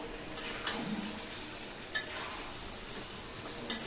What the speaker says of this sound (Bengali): শুধু লাড়া দিতেছো?